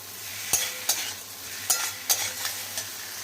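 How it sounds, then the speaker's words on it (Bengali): A curry with partly boiled ingredients is stirred in a pan, several distinct spoon scrapes and knocks over a low continuous sizzle, close and alone. "ভালো করে নাড়াচাড়া করব"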